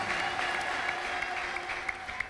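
A church congregation claps together in steady, dense applause that holds at an even level for the whole moment, with a few sharper claps standing out near the end.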